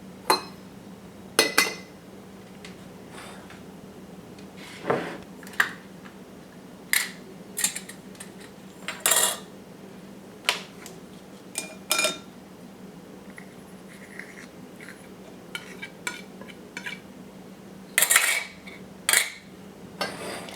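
A spoon stirs milk kefir in a glass jar, giving scattered sharp clinks and scrapes of metal on glass at an uneven pace, close and fairly quiet with no talking.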